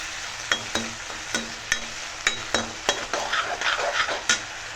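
Ingredients with a splash of soy sauce being stir-fried in a pan for chilli chicken, with a steady sizzle broken by sharp, regular scrapes and clinks of a spatula against the metal, close and fairly loud.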